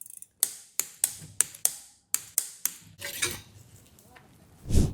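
A ratcheting torque wrench tightens brake rotor bolts on a Surron Ultra Bee supermoto, about ten sharp metallic clicks in quick succession, close and clear, then a brief rustle and a low thump.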